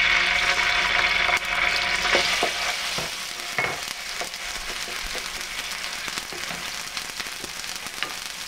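Ginger garlic paste frying in oil on a grill plate for Chinese-style fried rice, a loud, dense sizzle close by with scattered scrapes and stirring clicks throughout, no voices.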